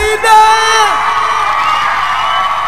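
A crowd at a live music show in Salta, Argentina, cheers, whoops and shouts loudly and close up, with a sustained roar of mixed voices.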